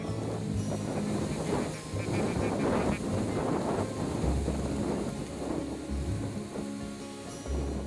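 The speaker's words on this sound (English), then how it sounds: "literally too windy for the geese or ducks to even fly" Strong wind roars steadily across the microphone for the whole stretch, with heavy low rumbling gusts buffeting it and no voices.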